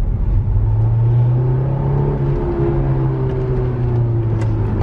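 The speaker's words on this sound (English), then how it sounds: "That's a third gear pull. Pretty good downshift." A Honda S2000 engine revs hard through a third gear pull, a loud, steady rising drone with strong low harmonics that holds throughout, with no talk over it.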